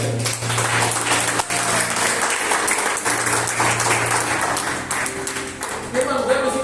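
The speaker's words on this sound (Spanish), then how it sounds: "Dale un aplauso a la que me dice." Audience applause at a sermon, sustained clapping from a crowd filling several seconds with steady dense patter, while a voice and some music carry on underneath.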